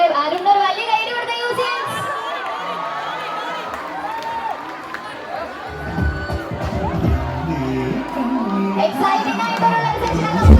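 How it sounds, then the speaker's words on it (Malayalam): A crowd of college students cheers and shouts in a lively, echoing hall, with excited voices rising and falling and bursts of whooping and crowd noise over about ten seconds. "ഒരു വലിയ കൈയടി കൊടുക്കാം"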